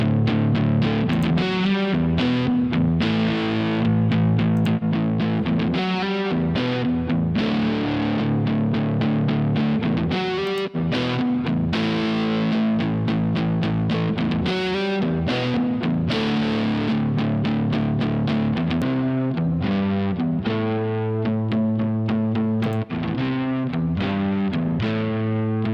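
Rock music runs through a Goodhertz Tupe tube and tape saturation plugin, loud, dense and continuous with a gritty distorted edge, with no talk.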